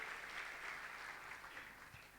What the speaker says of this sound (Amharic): ለጌታ አጨብጭቡ እስኪ